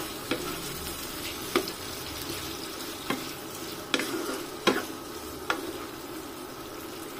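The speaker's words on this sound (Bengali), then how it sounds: "আলু আর টমেটো এখন ভালোভাবে ভেজে নেব।" Diced potatoes and chopped tomatoes sizzle steadily in a hot pan, broken by several sharp scraping stirs of a spatula at irregular intervals, close and alone with no talk.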